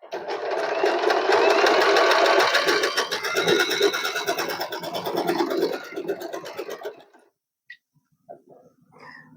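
Usha Allure DLX sewing machine running a zigzag stitch, a fast steady mechanical whir with rapid needle ticking that stops about two-thirds of the way in, leaving faint clicks and handling noise.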